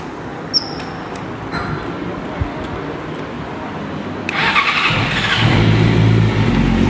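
A 2019 Yamaha R6 sport bike fitted with an aftermarket exhaust idles quietly after a few small clicks, then is revved hard, its close, loud engine rising and holding for the last few seconds.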